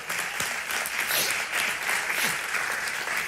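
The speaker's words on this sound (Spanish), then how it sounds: "O dale ese aplauso a Dios si es para Él" A church congregation applauds during a sermon, a sustained, even roar of many hands clapping together at moderate loudness with no pause.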